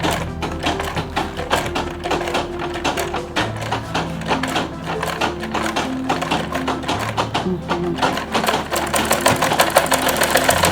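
A sewing machine runs steadily, stitching the ends of a fabric lunch bag together, its needle chattering in a fast, even rhythm that holds loud and close throughout, with a low motor hum underneath.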